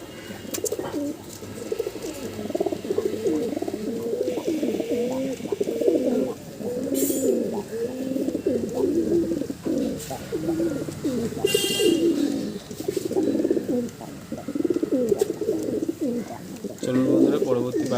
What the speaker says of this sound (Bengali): এটা একটা পালসার ক্রস লাইনের পায়রা আছে।